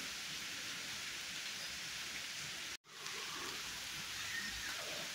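Heavy storm rain falls in a steady, dense hiss that fills the scene, briefly cut out for a moment near the middle before resuming just as strong.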